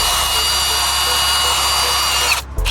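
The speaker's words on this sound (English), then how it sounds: "if you really want to be nice to your car, you'll get a drill with a brush bit, get all that crud off of there." Power drill spinning a wire brush bit against a car wheel hub to scrub off grime and rust, a loud, continuous high whirring grind that cuts off abruptly near the end.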